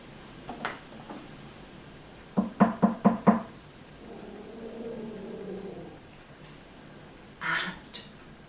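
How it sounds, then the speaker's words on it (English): Five quick knocks on a door, made with a prop during a read-aloud of a Little Red Riding Hood pop-up storybook, crisp and close, followed by a faint low hum and a brief scrape. "and she knocked on the door"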